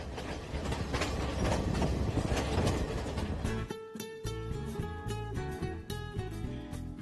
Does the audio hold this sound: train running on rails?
yes